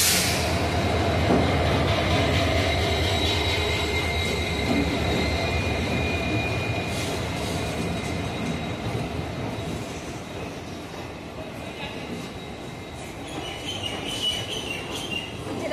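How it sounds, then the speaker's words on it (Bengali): A commuter train pulls into a station platform with a loud, steady rumble of wheels and carriages rolling close by, thin squeals rising over the roar as it slows. "দিদির ট্রেন এখন ঢুকে যাচ্ছে।"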